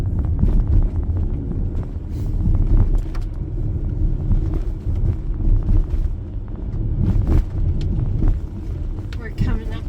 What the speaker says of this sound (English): clutch in, second gear, clutch out, little bit of gas